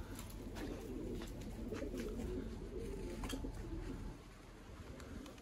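Pigeons cooing outdoors in wind while young game pigeons are being trained: soft, low, rolling coos repeat steadily beneath a faint background hiss, with a few brief higher chirps and no talking.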